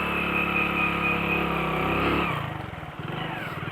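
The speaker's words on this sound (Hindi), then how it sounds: "देखो अब मैं यहाँ से रेस ज़्यादा दूंगा, क्योंकि मुझे पता है अगर मैंने रेस कम दी तो मेरी बाइक बीच में फंस सकती है।" A motorbike engine revs hard while climbing a slope on a riding lesson, a loud sustained drone that suddenly drops and turns rough and chugging as the bike bogs down.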